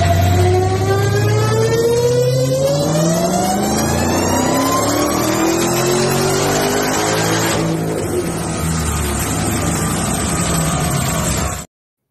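A car engine revs hard on a dyno, loud and continuous, its pitch sweeping upward through climbing pulls before easing off and cutting out abruptly at the end.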